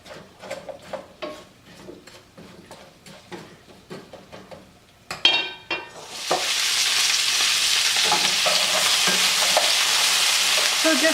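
Baby potatoes, some cut into quarters, cook in a pan: a run of light taps and knocks gives way to a loud, steady sizzle as they are stirred around.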